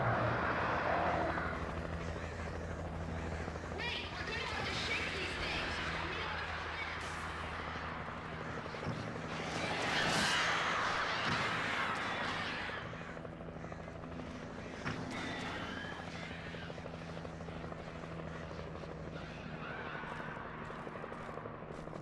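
Helicopter in the Alan Wake video game: a broad, steady rotor roar with a low thrumming beat persists throughout, swelling louder midway as if passing close, with faint voice underneath.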